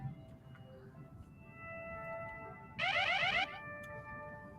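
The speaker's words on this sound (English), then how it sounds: "That alarm is really annoying." Electronic alarm in a video game, a steady tonal hum with a sharp, pulsing beeping burst rising loudly for under a second before fading back.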